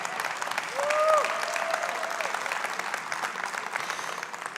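Audience applause in a hall at a crypto white paper presentation, a dense steady clapping wash that swells briefly near the start, with a faint voice or tone rising over it.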